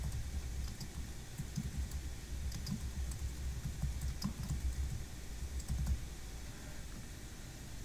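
Keys on a computer keyboard clatter in a steady run of light, quick taps as text is typed, close to the microphone over a low background rumble, with no talking.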